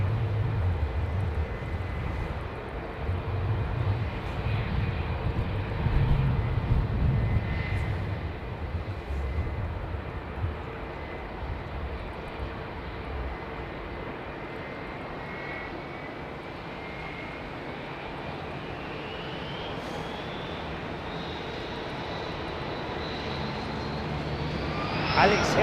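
Airliners departing from runway 09, a continuous loud jet engine roar rising and sustained across the whole stretch, with a climbing whine toward the end as the aircraft passes close overhead.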